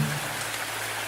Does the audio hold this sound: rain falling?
yes